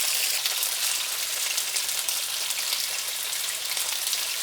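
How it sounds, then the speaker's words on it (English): Diced garlic sizzling in a pan of garlic-infused virgin olive oil, a steady, dense crackle and hiss that holds even throughout, close and fairly quiet with no voices. "Now I'm going to add in the garlic that we just diced."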